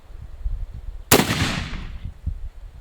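A single loud Cheytac M200 Intervention rifle shot cracks sharply, then its blast rolls and decays over about a second against quiet outdoor background noise.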